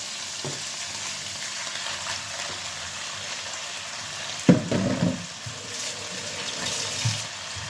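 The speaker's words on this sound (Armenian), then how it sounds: "հիմա ավելացնում ենք սև թոքը" Chopped black lung is added to a hot pan, a quiet frying hiss that jumps into a louder burst of sizzling and clatter midway, then settles back to a low sizzle.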